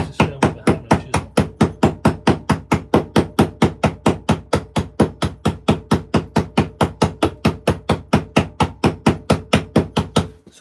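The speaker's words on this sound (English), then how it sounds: "watched me absolutely beat this piece of stone with a hammer and chisel" Hammer and chisel striking a block of stone during carving, sharp regular blows about four per second continuing steadily, loud and close with no talk.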